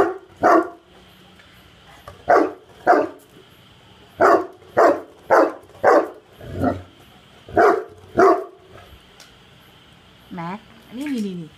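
Dog barking in a series of loud, close single barks spread irregularly over about ten seconds, ending with a couple of higher whimpering yips.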